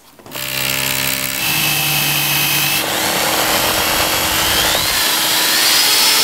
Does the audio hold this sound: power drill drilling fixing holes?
yes